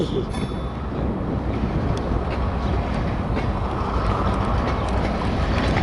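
CN 568, a long freight train hauled by about four engines, rumbles steadily past at close range with dense low roar, continuous rail clatter and some wind buffeting throughout.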